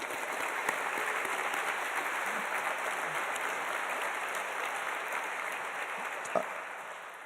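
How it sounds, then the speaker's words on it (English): Audience applauding at a physical therapy white coat ceremony, a dense, steady wash of many hands clapping that holds for several seconds before easing slightly, with one sharper clap near the end. "That's a clap, yeah."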